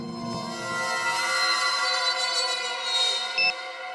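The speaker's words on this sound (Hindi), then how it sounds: "सर, अगर अलार्म बजा था तो फिर ये अविनाश कैसे नहीं उठा?" An alarm clock sounding a steady, piercing electronic tone that holds for several seconds, loud and close, with a brief blip near the end and no voices.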